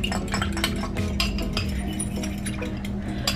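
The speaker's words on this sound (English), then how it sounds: "So yeah, just keep stirring." A spoon stirs a mixture in a separate bowl with quick, close clinks and scrapes against the sides. The strokes are continuous and fairly loud over a low kitchen hum, with no talking.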